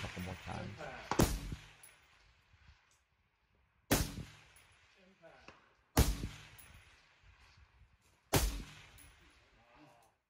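Four sharp precision rifle shots fired at a steel plate rack at 400 yards, spaced a few seconds apart, each a loud crack with a trailing rumble and faint distant ring between.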